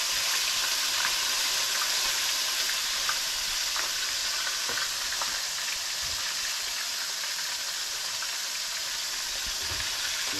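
Fish frying in a wok-style pan during an outdoor catch-and-cook, a steady loud sizzle and crackle of hot oil filling the whole stretch with occasional pops and stirring clinks, no talking.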